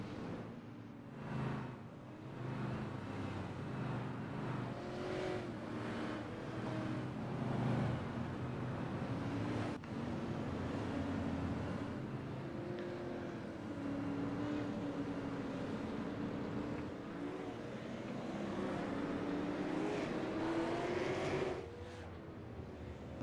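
Race cars circle a short track under caution behind the pace car at Slinger, a steady, moderately distant drone of engines rising and falling as they pass, continuous throughout.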